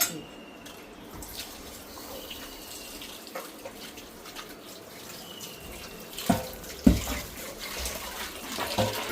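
Water poured out of a pressure cooker holding goat mutton and tripe, Malvani style: a steady running, splashing pour at moderate level, ending with a few louder clunks and splashes, with no voices.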